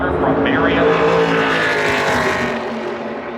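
A Toyota Tundra race truck roars through qualifying at Phoenix Raceway in a NASCAR Craftsman Truck Series event, its engine a loud, sustained, high-revving drone that shifts in pitch as it passes and slowly fades.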